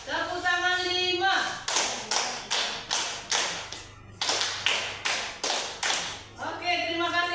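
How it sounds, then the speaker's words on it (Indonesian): A classroom group claps in a rhythmic pattern, roughly ten loud even claps in two runs separated by a pause, with speech at the start and end. "Tepuk tangan 5."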